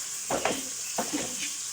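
Onions frying in a pan for moong dal give a steady, fairly soft sizzle, broken by a few quick scraping stirs of the spoon.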